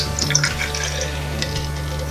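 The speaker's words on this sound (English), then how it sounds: "It looks like a thing of beauty as it's being poured." Beer poured from a tap into a glass at a taproom bar, a steady liquid rush and gurgle running continuously at close range under a low ambient hum, with no talking.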